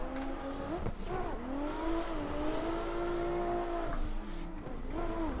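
Drift car in a drifting video game on the FD Texas 2020 layout, engine revving up and holding a high whine with rising and falling pitch and some tire noise, fairly close and unbroken by talk.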